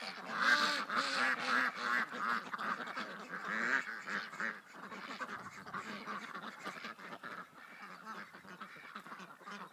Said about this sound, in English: Come on, ducks, wake up.